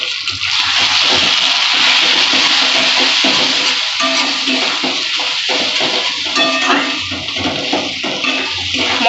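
Spice paste (masala) with ground cumin, chili and salt being fried and stirred in a pan for a Bengali fish curry, giving a loud, continuous sizzle with scraping and stirring through it and no talk.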